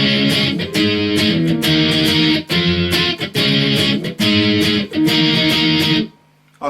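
Distorted electric guitar plays the intro to a song: loud, chugging chords in rhythmic bursts with brief gaps, ending in a sudden stop.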